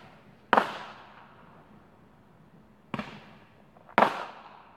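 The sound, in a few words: fireworks popping outside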